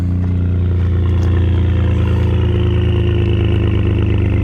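Steady, deep exhaust rumble from an idling Ford F-150 pickup's V6 engine with an upgraded muffler, loud and close, holding an even throb throughout.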